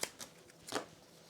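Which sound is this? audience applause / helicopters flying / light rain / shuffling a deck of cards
shuffling a deck of cards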